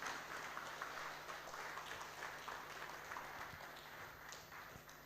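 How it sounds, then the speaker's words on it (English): An audience at a legal summit in Lagos claps warmly for a chamber of commerce president, the applause strong at first and then tapering gently. "Please give him a wonderful round of applause."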